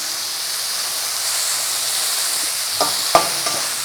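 Chopped onions with curry leaves sauté in hot oil in a pan, a steady close sizzle with a few sharp clicks of a spoon stirring near the end.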